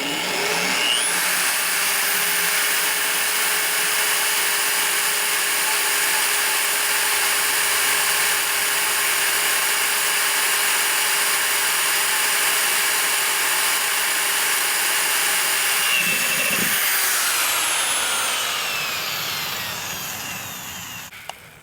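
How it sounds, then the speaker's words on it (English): A power drill with a 3/8-inch bit drilling into a wheel rim whines at a constant high pitch for about fifteen seconds, then spins down and stops, loud and close. "So I'm going to drill a 3/8 hole right there."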